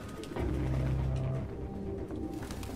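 Pigeons coo in the Detroit: Become Human video game, low throaty burbling calls close by over a steady ambient hum, with a fainter second coo following.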